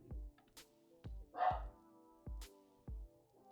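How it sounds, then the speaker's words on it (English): A dog barks indoors in a house, five or so sharp, loud barks at a steady spaced rhythm with a brief whine-like yelp in the middle, no talking. "The dog be a barking."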